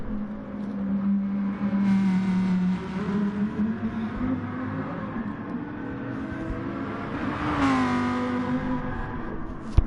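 Lamborghini GT3 race car lapping the Nürburgring in a racing video game, a steady droning engine note that rises and shifts with gear changes, swelling briefly near the end, continuous and fairly loud with no talking.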